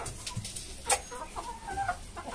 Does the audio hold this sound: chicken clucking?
yes